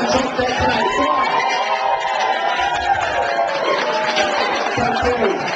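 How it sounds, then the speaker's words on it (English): A live show crowd giving a massive cheer for the sponsors, loud sustained cheering and shouting from many people, close and filling the whole stretch. "please let me hear a massive cheer for our sponsors"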